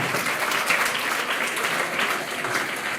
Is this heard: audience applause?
yes